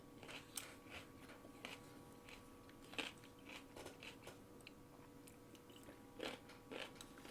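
Someone eats a Greek salad up close, with crunchy bites and chewing sounding in irregular bursts over a low room hum.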